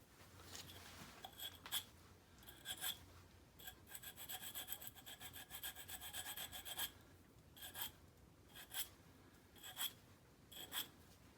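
A hand carving tool is rubbed against a Kratex rubberized abrasive, giving faint, repeated short rasping strokes, some in quick runs and others spaced apart, close up and with no talking.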